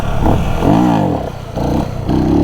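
Motorcycle engine revving hard during stunt riding in Salem, throttle blips rising and falling in close, loud bursts over several seconds.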